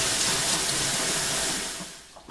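Tap water runs steadily over a slab of home-cured bacon, rinsing off the cure seasoning, a continuous broadband splash that eases slightly toward the end.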